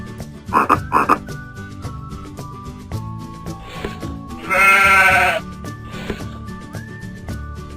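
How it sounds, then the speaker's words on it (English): A frog croaks in two quick bursts near the start, over light background music, followed later by a longer loud rasping bleat like a sheep. "Frog."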